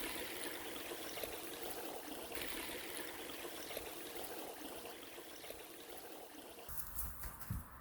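A waterfall stream splitting into several little streams over rocks rushes and trickles steadily, a continuous close wash of water with a brief louder splashy burst near the end and no voices.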